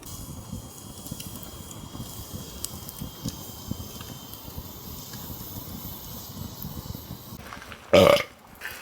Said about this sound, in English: I can edit that burp out.